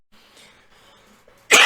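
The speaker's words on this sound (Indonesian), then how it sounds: "Wah, batuk nih." A single sharp cough bursts out at the end of a quiet room, loud and close after near silence.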